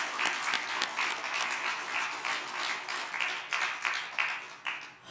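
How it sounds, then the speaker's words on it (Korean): A church congregation gives a round of applause during a sermon, a lively burst of many hands clapping in uneven surges that rise and fall over several seconds. "그 하나님께 영광의 박수 드립니다."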